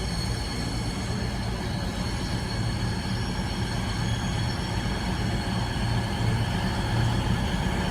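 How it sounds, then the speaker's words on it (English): A Northern service from Hexham to Whitby pulls out of Newcastle station, a steady, loud rumble of wheels and engine drone that holds without a break and has no voices over it. "departing out over there is a Northern service from Hexham to Whitby"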